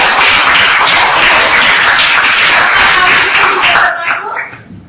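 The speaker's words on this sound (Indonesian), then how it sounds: "Tepuk tangan dong." A classroom group claps together during a teacher coaching session, a loud, dense, steady patter of many hands that holds for about four seconds and then quickly dies away.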